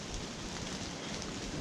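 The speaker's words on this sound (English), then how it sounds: "It's a lot of rain" Heavy rain pours steadily on the Appalachian Trail, a dense, continuous hiss of drops close by with constant loudness and no pauses, alone without voices.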